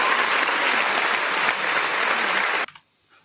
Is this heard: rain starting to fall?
no